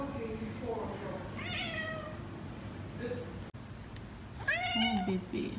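A cat at a veterinary clinic waiting room meows twice, a pitch-wavering cry early on and a louder, rising call near the end, with soft room noise and faint background voices.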